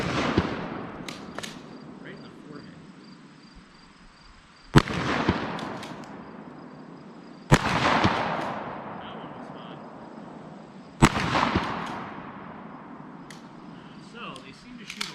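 Three loud, sharp 12 gauge shotgun blasts from a Smith and Wesson 3000 firing 1-ounce slugs at an outdoor range, spaced a few seconds apart. Each shot has a long decaying echo.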